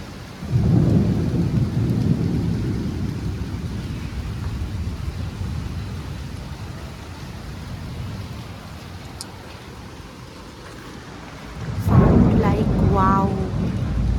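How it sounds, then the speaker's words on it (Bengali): A midday thunderstorm sends a deep rumble of thunder across a steady wash of rain, swelling again near the end with a person speaking over it. "তারপরে এই মেঘের আওয়াজে উঠলাম"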